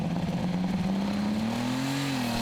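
A DAF truck engine converted from diesel to alcohol, fitted to a pulling tractor at a Danish tractor-pulling event, revs loudly and continuously, its pitch rising steadily then easing slightly.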